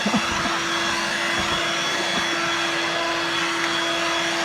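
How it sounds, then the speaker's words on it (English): A Dirt Devil Vibe corded bagless stick vacuum cleaner runs continuously, a steady motor whine with a sustained tonal hum and airy suction noise, close and loud from start to finish. "the Dirt Devil gets those jobs done."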